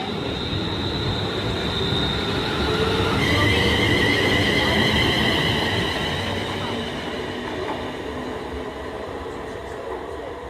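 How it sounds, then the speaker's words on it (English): London Midland Class 350 electric train departing, its rolling rumble building and then easing, with a sustained high wheel squeal and tonal whine from the electric traction. "350 267 is ready to depart with the 1310 London Midland service to Birmingham New Street from Liverpool Lime Street"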